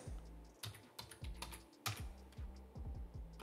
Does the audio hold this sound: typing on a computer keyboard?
yes